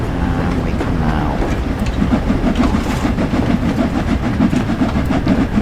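A steam train in Train Sim World 5 chugs steadily, its rhythmic clickety-clack on the rails becoming louder and more regular partway through, running continuously at close range.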